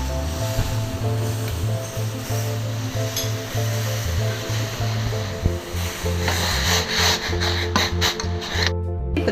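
Masala tea simmers in a pot on the stove, a steady close bubbling and hissing boil with a low hum underneath, continuous throughout.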